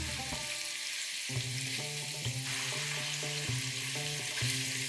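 Lamb chops cooking in a pan with onion and yogurt over a medium gas flame on the stove give a continuous soft sizzle, largely covered by steady background music with a clear melody.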